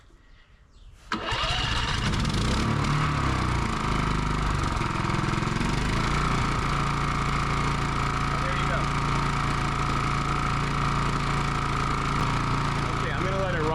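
A Harbor Freight portable generator is quiet for about a second, then its engine catches and keeps running loud and steady at close range.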